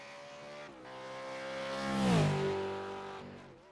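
A race car in a racing video game at Donnington starts a flying lap, its engine note climbing and shifting through gears, swelling to a loud peak with a pitch sweep before easing off, with no talk over it.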